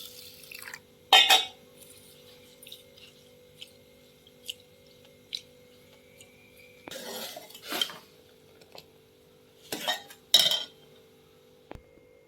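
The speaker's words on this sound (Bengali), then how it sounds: "আমি এবার চালটা একটু ধুয়ে নেব" Rice being washed by hand in a metal pot of water for batasa payesh, with sparse clanks and scrapes of the vessel and brief splashy sloshes, loud bursts separated by quiet pauses.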